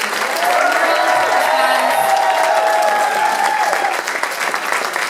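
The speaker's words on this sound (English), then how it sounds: "One more round of applause, please, for Eddie Pope and Joe Perry" At an Aerosmith book signing in a New York Barnes & Noble, a crowd breaks into loud sustained applause with cheering and whistles riding on top, a thick steady roar throughout.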